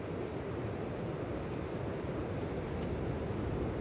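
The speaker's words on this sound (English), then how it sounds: "Proper gusty now." Gusty wind at Manchester Airport, heard as a steady, fairly quiet broadband rush of wind buffeting the microphone, with no talking.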